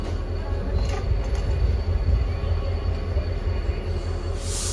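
A passenger train heading toward Bhavnagar rolls along with a loud, continuous low rumble and steady rattling of the carriage, a constant wash of noise with no pauses.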